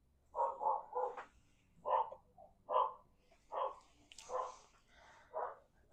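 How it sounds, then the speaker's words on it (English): Neighbor's dogs bark in a loud, steady series of about eight separate woofs, some in quick pairs, with no talking over them. "It's my neighbor's dogs."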